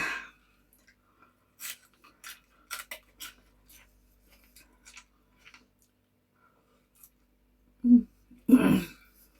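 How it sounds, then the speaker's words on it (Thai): Someone eating larb moo, Thai minced pork salad with garden vegetables, herbs and side greens, chews with scattered crunchy bites, a few soft clicks, then two louder close bursts near the end, with no talking. "ขออภัยในความเคี้ยวดัง มันดังก๊อดๆอะ"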